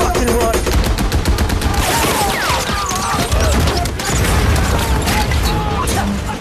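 Tank cannon blasts and rapid machine gun bursts from a combat video game rattle on continuously and loudly, with heavy booms and crashes, while someone shouts orders over the gunfire.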